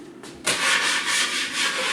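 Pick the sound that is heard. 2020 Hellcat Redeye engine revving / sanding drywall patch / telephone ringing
sanding drywall patch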